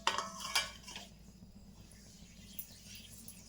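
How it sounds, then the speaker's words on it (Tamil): Semolina stirred in a pan over low heat for rava laddu gives a few clinking utensil scrapes at the start, then a quiet, faint rustle. "ரவையை போட்டு கிண்டிடலாம்."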